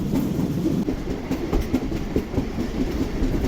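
The Karakoram Express, running from Karachi to Lahore through extremely dense winter fog, rumbles along steadily with rhythmic clickety-clack of wheels over rail joints, heard from inside the carriage.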